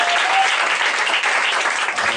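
A church congregation applauds the Lord, steady dense clapping filling the whole stretch at even loudness, with a faint voice briefly audible beneath.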